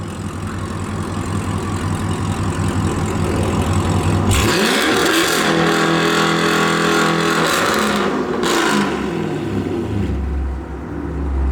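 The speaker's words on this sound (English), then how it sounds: "we're just gonna rev it until it doesn't let it rev it anymore" A 2021 Chevrolet Camaro SS V8 with an aftermarket exhaust idles low, then revs hard and holds against the idle rev limiter with a loud, raspy bouncing roar. The engine drops back to a rumbling idle near the end.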